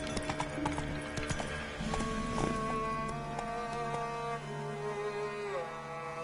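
A horse gallops in The Witcher 3, with rhythmic clip-clop hoofbeats and a whinny over game music and ambience, close and clear.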